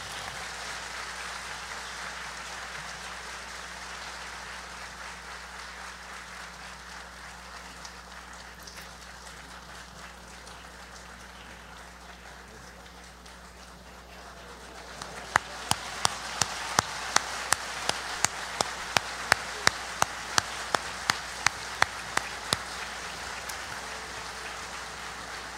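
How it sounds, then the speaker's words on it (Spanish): Audience applause for maestro Edgar Palacios at a tribute event in Quito: a dense, moderately distant wash of clapping that swells at the end, with a few sharper nearby claps cutting through. "Un aplauso para él."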